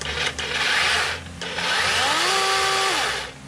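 A Dewalt 12-inch XR cordless battery chainsaw spinning up, a close, loud electric whir that surges, dips briefly, then rises again in pitch and winds down near the end.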